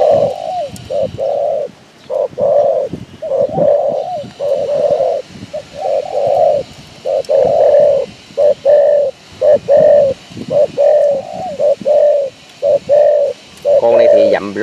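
A dove coos loudly and close in a long series of regular, evenly spaced calls, each a rounded low note followed by a brief gap, continuing steadily throughout.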